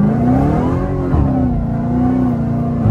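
A Dodge Challenger Hellcat accelerates in second gear, its engine holding a loud, steady, throaty roar heard from inside the car, with a slight dip in pitch midway before it climbs again.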